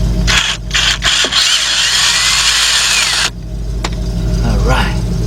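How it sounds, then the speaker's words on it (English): A cordless impact gun removing a nut from a 2002-2005 Hyundai XG350 during a timing belt and water pump job, firing in short bursts and then a longer rattling hammer close up, with someone talking over it. "cordless gun on this. Take that nut off of there."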